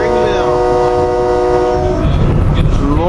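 SEPTA train 217 to Warminster, a two-car set of Silverliner IV electric multiple units, rolling past close by with a loud sustained horn blast and rumbling wheels, the horn fading as the cars go by.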